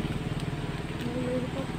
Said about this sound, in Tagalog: May dumating na motor naman.